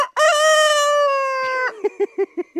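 A four-year-old farm rooster gives one loud, close crow, a long sustained call that breaks off into a series of short clucking notes.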